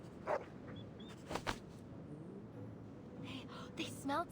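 Dogs in the video game Reverse 1999 giving a few short barks and yips scattered over game music and ambience, moderately quiet with sharp bursts near the start and end.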